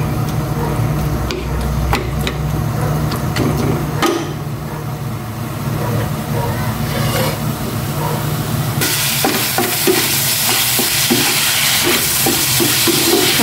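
Garlic frying in cooking oil in a pan for pork binagoongan, a steady, close, loud sizzle that runs throughout, with faint clatter and occasional scraping of a utensil, and no talk.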